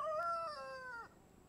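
A rooster crows once, a loud, drawn-out call of about a second that falls away at the end, followed by quiet background.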